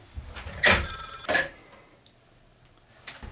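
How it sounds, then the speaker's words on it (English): A telephone bell rings in two short bursts, fairly close, then falls quiet. "The phone's ringing, phone's ringing!"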